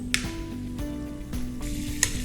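Beef fat sizzling steadily in a hot pan as it melts, a close, continuous crackle with a couple of brief sharper pops.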